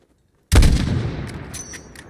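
A single sniper rifle shot is fired in the video game Call of Duty: Modern Warfare. It cracks loudly out of silence, then a rumbling echo tails off over about a second and a half, with faint metallic clicks after it.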